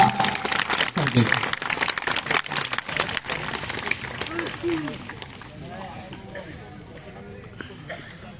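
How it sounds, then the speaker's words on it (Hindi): A crowd at a Patanjali yoga gathering marking 75 years of independence claps loudly in a strong burst that thins out after a few seconds, giving way to someone speaking. "एक बार जोरदार तालियां।"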